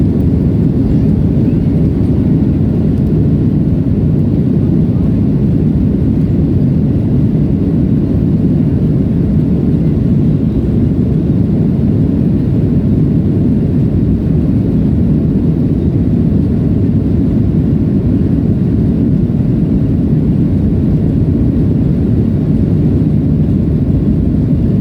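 An airliner throttles up and takes off from Gold Coast, a loud, steady jet engine roar with deep rumble that holds for the whole stretch, heard from inside the cabin.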